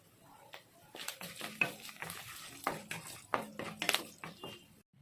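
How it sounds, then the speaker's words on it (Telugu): Sliced onions and dried red chillies fry with turmeric in a pan for bottle gourd fry, giving a steady close sizzle broken by repeated scraping stirs and clinks of the spoon against the metal. "ఆనియన్స్ వేగిన తర్వాత ఎండుమిర్చి వేసుకోవాలి."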